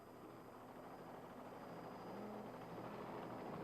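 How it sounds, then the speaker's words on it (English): A helicopter hovers overhead during the 1986 Baja 1000 off-road race, giving a steady, loud, broadband rotor and engine roar that holds constant with a low throbbing hum, and no voices are heard. "You see our helicopter hovering overhead"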